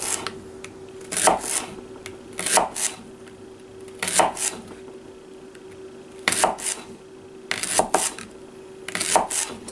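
A Kershaw Brawler knife slices leeks into quarter-inch pieces on a cutting board, giving six distinct, evenly spaced chopping thumps with brief pauses between them, close and clear with no talking.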